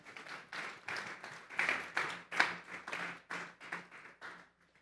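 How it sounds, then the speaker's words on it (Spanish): A church congregation claps together as an offering to God, a rhythmic run of about a dozen loud, evenly spaced hand claps that fills the room, with no speech. "Vamos a darle una ofrenda de palmas a Dios."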